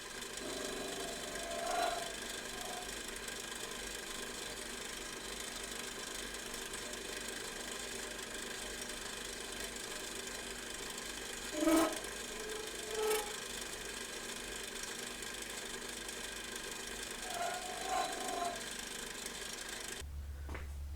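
A lathe turns down a part for a bearing surface on a 1917 Model T power unit, a steady quiet motor drone with a few soft knocks and clicks and a brief low thump at the end.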